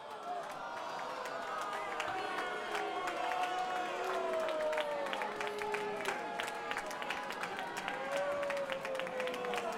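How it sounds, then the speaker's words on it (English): Crowd at a Rocktagon fight event applauding and cheering after a bout ruled a draw, with dense steady clapping and raised voices filling the room throughout. "let's give one more big round of applause for both fighters"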